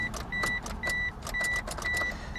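A 1998 Mitsubishi Eclipse that was flooded in a hurricane has a starter fault. It gives a rhythmic series of short, repeated pulses with a whirring whine, about five cycles in quick succession, close by.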